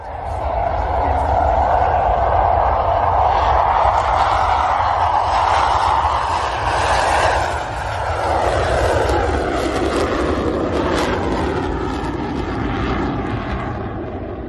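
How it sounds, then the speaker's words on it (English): F-18 fighter jet taking off with afterburners lit, a loud, continuous roar that swells and shifts in pitch as it passes, staying strong throughout with no pause. "This F-18's fast takeoff with afterburners engaged."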